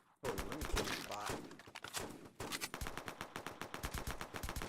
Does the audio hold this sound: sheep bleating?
no